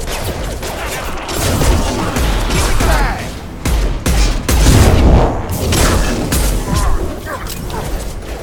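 Heavy pistol gunfire in the Mass Effect 2 video game, with sharp, loud shots in an irregular run over a dense combat din, and talking layered on top in places.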